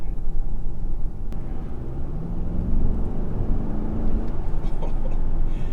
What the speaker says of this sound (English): I really hope that the sound of the engine is coming across through that camera.